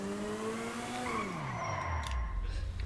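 A motorcycle ridden in the video game GTA V whines with a steady engine tone that drops in pitch as it slows, along with tire skidding noise and low rumbling underneath.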